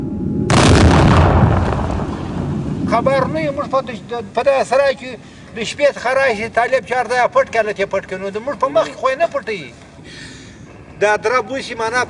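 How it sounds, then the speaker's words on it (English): Explosives set off by US Marines in Sangin, Afghanistan detonate in one loud, deep boom at the start that rumbles away, followed by someone talking steadily over faint background noise. "The Marines find a roof to sleep on for the night as the last explosives are fired"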